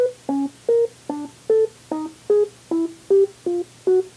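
Synthesized chord tones stepping through a series from a MIDI chord step sequencer, each step fired by a key tap on a Trigger Finger pad controller: ten evenly spaced short tonal stabs over a steady low hum, clear and alone.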